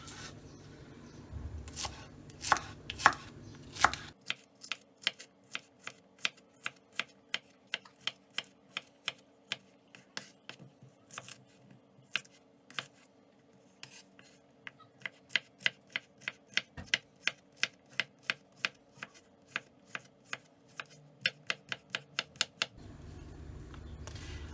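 A knife chops cucumbers against a board in a quick, steady rhythm, dozens of crisp close cuts with no talking.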